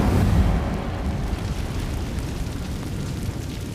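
Incendio fire spell cast in Hogwarts Legacy, a loud roaring whoosh of flame that bursts at the start and sustains as a dense, rumbling crackle throughout.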